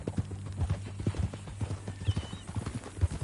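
Horse hooves clip-clop in a steady walking rhythm in the video game Red Dead Redemption 2, fairly close and moderately loud, with a brief whinny-like note partway through.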